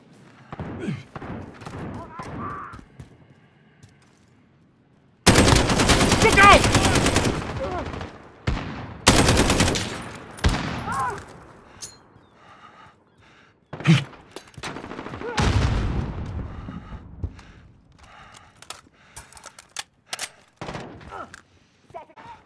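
Bursts of loud automatic gunfire and heavy thuds in the video game Call of Duty: Modern Warfare, coming in several sharp clusters separated by quieter stretches, with voices talking between the shots.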